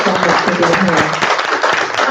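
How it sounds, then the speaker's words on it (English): Audience applause for a speaker named Katie at a talk about downsizing and moving, a short burst of clapping mixed with voices talking over it. "Can we give another applause to Katie and her time here in expertise?"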